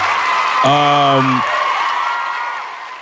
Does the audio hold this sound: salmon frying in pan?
no